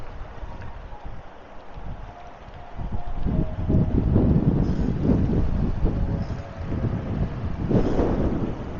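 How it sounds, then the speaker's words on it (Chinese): Strong wind buffets a microphone while cycling along a road beside a cruise terminal. The rumble is low and uneven, and the gusts grow heavier about a third of the way through. No one speaks. "今天风很大啊"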